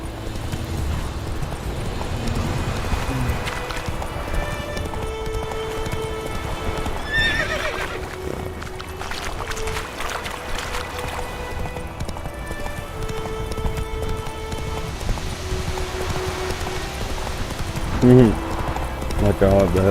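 Roach, the horse in The Witcher 3: Wild Hunt, gallops with steady, close clip-clopping hooves and lets out whinnies, while someone talks over the action throughout.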